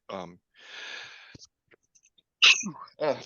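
A single sharp sneeze bursts out close by outdoors in a family backyard during pollen season, right after a short stretch of speech and a breathy rush, with a few more words following it.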